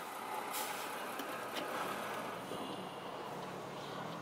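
Trucks drive past on a road in Samoa: a faint, steady wash of engine and tyre noise with a few brief louder swells, heard from inside a car.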